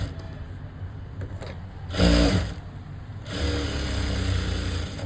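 A sewing machine stitches the lower hem of a plain blouse in bursts, its motor whirring in two runs separated by a brief pause, close and fairly loud.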